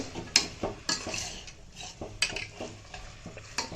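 Vegetables being sautéed and stirred in a pan: a soft sizzle underlies repeated metallic spatula scrapes and clinks against the pan, arriving in an uneven rhythm, fairly quiet and close, with no speech.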